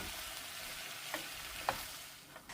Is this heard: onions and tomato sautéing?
yes